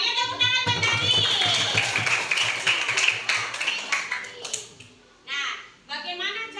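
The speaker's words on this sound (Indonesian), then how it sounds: "tepuk tangan buat Agit" Schoolchildren in a primary-school maths lesson clap for a classmate. Dense, continuous clapping mixes with children's voices, then breaks off into short bursts near the end.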